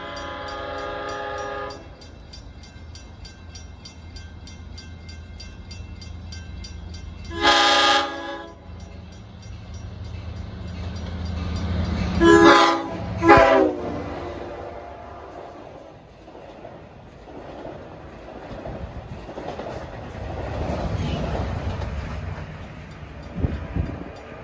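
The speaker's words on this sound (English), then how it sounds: "our last train at 7:12 is train 44. Penn Station to Spionk." A Long Island Rail Road Main Line passenger train near Bethpage and Hicksville sounds its horn in several loud blasts, then passes with rising rail rumble and wheel noise, and the rumble fades.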